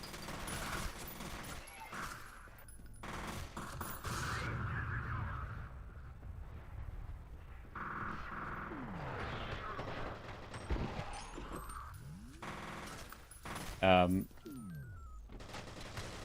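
Bursts of video game gunfire, rapid automatic volleys and heavier booms, ring out repeatedly over a livestreamed PC session on a GeForce 7800GS AGP graphics card, mixed loud with an excited player talking throughout.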